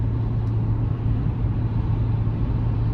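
A steady low hum comes from a 2023 Chevy Tahoe RST Performance Edition with its 6.2 V8 cruising on the interstate. The engine drone sits under road noise, even and continuous.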